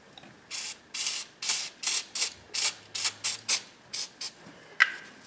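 Short bursts of brake cleaner spray hiss onto the brake fluid reservoir cap of a 5th-generation Subaru Outback, about a dozen quick nearby blasts in an uneven rhythm with no talking.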